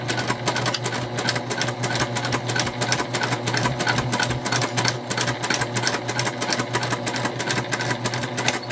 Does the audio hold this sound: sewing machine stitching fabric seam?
yes